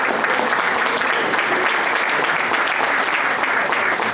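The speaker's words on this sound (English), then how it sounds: "let's give him an applause." Dense, sustained applause fills a Lions Club district convention hall in Walnut Creek, with many hands clapping loudly and evenly throughout and no pauses.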